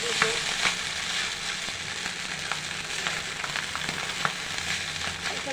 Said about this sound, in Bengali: এখন এটা ভালো মতো নাড়তে হবে।